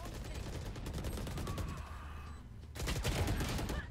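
Rapid volleys of video-game gunfire crackle through the whole stretch, dense bursts of shots with a brief lull before a louder salvo near the end, with no talking.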